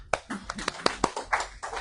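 A small seminar audience gives a scattered, sparse clap for a speaker, a handful of distinct individual claps at uneven intervals, close and fairly faint.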